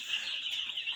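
A flock of poultry on a farm makes a dense, continuous high chorus of chirping and peeping, held at a moderate level throughout.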